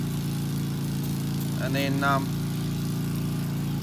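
A Briggs and Stratton lawn mower engine warming up, running steadily at idle with a continuous low hum throughout, while a voice speaks briefly over it.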